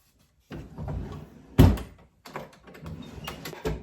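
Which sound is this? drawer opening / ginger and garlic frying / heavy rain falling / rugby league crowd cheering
drawer opening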